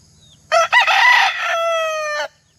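A fighting rooster crows once, loud and close, a long harmonic call that rises, holds and trails off, with brief quiet before and after.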